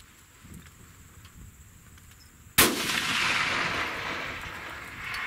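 A single long-range rifle shot cracks loudly outdoors after quiet wind and insect ambience, followed by a long rolling echo that fades slowly across open country.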